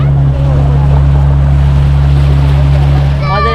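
A motorboat runs steadily on the Madurai temple tank, its loud, constant engine drone mixed with wind buffeting the microphone and faint water wash.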